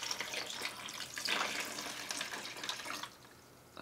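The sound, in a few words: water being poured into a drink cooler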